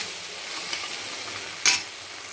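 Gentle, steady sizzle of spices sautéing in hot oil for a drumstick-leaf vegetable curry, with one brief clatter of a spoon against the pan partway through.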